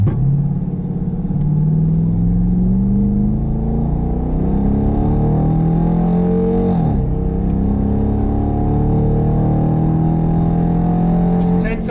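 A Dodge Durango R/T towing a 7,000-pound trailer accelerates from 0 to 60, its loud engine note climbing in pitch through several gear shifts under continuous road rumble.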